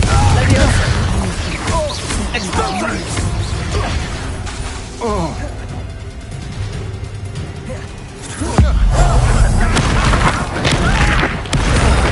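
A Confringo spell fired in the game Hogwarts Legacy blasts with a loud explosive boom and crash, layered over busy in-game rumbling and whooshing effects.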